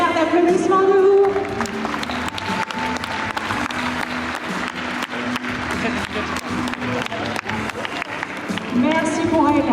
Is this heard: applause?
yes